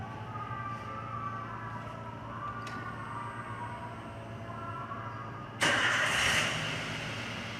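A car in an automotive workshop, with an exhaust gas analyzer probe in the tailpipe, starts up after a steady background hum, the engine catching abruptly with a loud burst that then settles.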